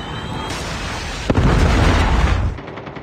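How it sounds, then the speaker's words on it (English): A Predator missile strike in the mobile shooter Warzone Mobile: a sharp impact hits, then a loud, rumbling roar of blast and debris sustains for about a second before fading into background game noise. "Predator missile inbound."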